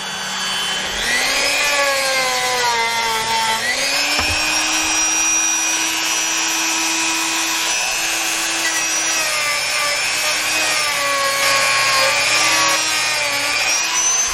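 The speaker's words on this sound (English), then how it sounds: "Now I'm going to take a buffing wheel and buff up this part." A motor part from a seized engine rebuild is pressed against a spinning power buffing wheel, giving a loud, close whirring drone whose pitch dips and rises as pressure changes, lasting throughout.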